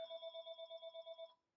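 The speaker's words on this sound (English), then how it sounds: "My house phone was going off." A house phone rings in a quick pulsing electronic trill that repeats steadily for over a second and then stops, faint and alone with no voices.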